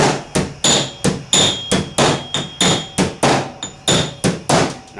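A hammer strikes over a dolly to work a crease in a steel body panel on a 1979 Trans Am, about seventeen sharp, ringing metallic blows in a steady, even rhythm, loud and close with no talk.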